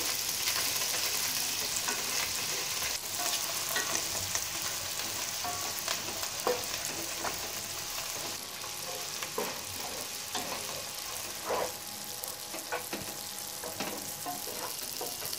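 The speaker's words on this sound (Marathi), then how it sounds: "चिरलेली मिरची कांदा थोडीशी कोथिंबीर घालायची आहे आणि हे सर्व परतून घ्यायचं आपल्याला" Chopped chilli, onion, curry leaves, asafoetida and a little coriander sauté in a pan, making a continuous moderate sizzle with soft stirring scrapes and crackles throughout, close and without voices.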